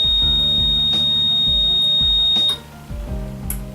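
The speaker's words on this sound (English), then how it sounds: "So you can hear the beep sound now." A steady series of low, evenly spaced electronic beeps from a vacuum forming machine signalling cycle end pulses under a constant machine hum, with a faint high whine above.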